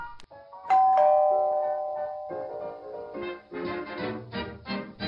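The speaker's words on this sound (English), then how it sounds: "I was enjoying a nice cuppa when my doorbell rang" A home doorbell chimes once with a ringing two-tone ding that slowly decays, followed by fainter clattering and rustling sounds nearby.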